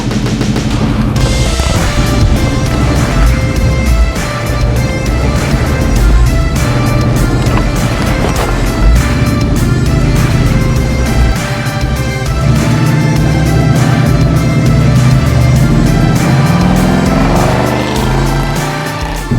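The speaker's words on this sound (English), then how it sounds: "So let's go for a quick drive." A Dodge Ramcharger truck, running again after sitting for 20 years, drives along with its engine loud and close, a dense continuous roar that barely varies throughout.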